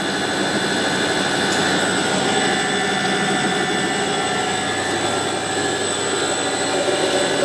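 Steady mechanical drone with high tonal whine from an extrusion moulding machine's motor and direct-drive straight reduction gearbox running continuously in a workshop, loud and unbroken, with no voices.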